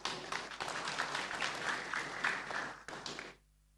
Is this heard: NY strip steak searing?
no